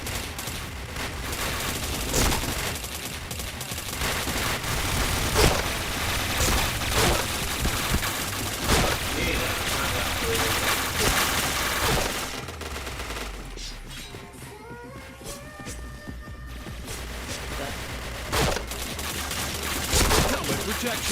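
Rapid bursts of automatic gunfire and shots in the online shooter PointBlank, dense and loud for most of the stretch, easing briefly midway before firing resumes, with a voice calling out over it.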